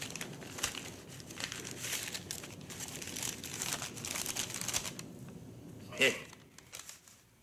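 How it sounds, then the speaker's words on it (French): Paper letters being opened and handled indoors, with crinkly rustling and crumpling across the scene and a sharper tear or crunch near the end, under people talking. "je peux bien ouvrir les lettres devant toi."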